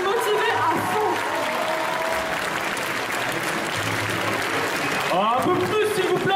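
A festival audience applauds contestants at a Sunday indoor cosplay contest, steady crowd clapping with some cheering sustained throughout, while voices carry over it near the start and end.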